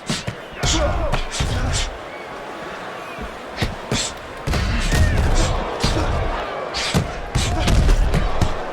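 Punches land in a heavyweight boxing bout between Tony Tubbs and Kirk Johnson, a series of sharp thuds and slaps in quick combinations over steady arena crowd noise and commentary.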